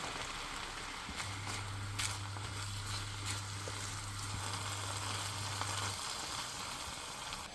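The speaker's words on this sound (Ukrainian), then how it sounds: "А зараз обсмажую е, заморожений шпинат." A steady, crackling sizzle of frozen spinach frying in a pan, continuous and close, with a low hum running through the middle of it.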